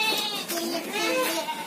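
Goats bleating in a pen in a rice field, a former cow shed, with several close, wavering bleats overlapping one another and people talking nearby.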